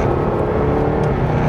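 Jaguar F-Type accelerating hard on the road: a loud, continuous engine roar with steady low rumble and drone throughout, heard close from the car, no pauses.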